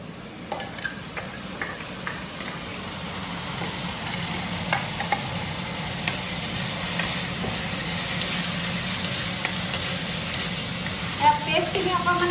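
Ginger, garlic and green chilli paste frying in hot oil gives a steady, close sizzle throughout, with occasional stirring scrapes and clinks over the top.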